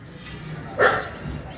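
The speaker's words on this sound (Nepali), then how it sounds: "ओ टिंकी भुक्दा" A dog gives a single short bark at close range, a brief sharp yelp in the middle of otherwise quiet background.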